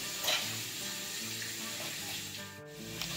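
Bacon fries in a pan on a home stove, giving off a steady, close sizzle and crackle that runs without a break under light background noise.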